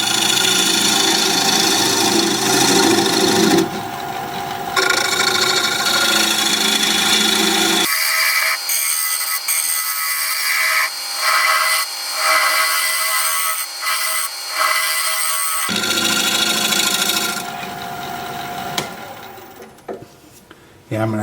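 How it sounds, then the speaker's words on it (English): Steady rasping scrape of a tool against a wood-turning piece spinning on a lathe, loud and broadband, breaking off partway for a quieter stretch with a voice talking, then resuming its harsh scraping. "so I'm going to end up scraping this"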